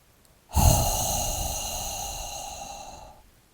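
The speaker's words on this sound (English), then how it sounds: "we will be doing the spleen sound" A single long, breathy qigong spleen healing-sound exhale with a soft hissing tone, steady and close, fading out after a few seconds.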